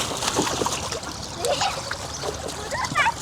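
Animals being bathed and dunked in water, with close splashing and sloshing that comes in bursts under steady voices talking over them.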